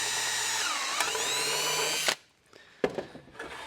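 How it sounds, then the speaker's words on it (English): A power drill bores into a sheet-metal ring for an Art Deco lamp, its motor whining loud and steady with shifting pitch for about two seconds, then stopping abruptly, followed by a few faint clanks and handling noises. "I'm just going to drill the ring."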